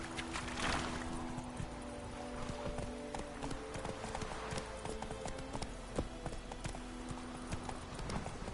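Steady clip-clop of horse hooves from The Witcher 3 video game, an even trotting rhythm heard continuously over a soft ambient game backdrop, moderately close.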